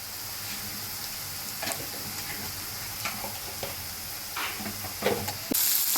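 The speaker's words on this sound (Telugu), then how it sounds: "ఇలా మొత్తం ఇలా కలుపు వేయించుకోవాలి ఫ్రెండ్స్ మొత్తం వేయించుకోవాలి" Onions frying in a pan with turmeric and ginger-garlic paste for an okra curry, a steady close sizzle with intermittent stirring scrapes and clicks throughout.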